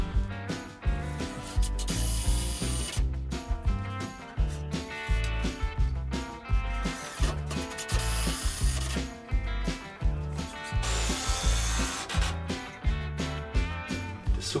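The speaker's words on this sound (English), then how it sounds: "Lots of screws to make it extra heavy duty." Screws are driven into wood while building a heavy-duty milking stand for a cow, a power driver whirring in repeated rhythmic bursts with ratcheting clicks, loud and close throughout.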